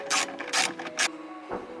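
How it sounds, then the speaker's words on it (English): A 1/4 inch ratchet unbolting a BMW E90 tail light gives three quick bursts of close, crisp clicking followed by a softer final turn. "we're gonna take a 1/4 inch ratchet, and we're gonna remove the light completely"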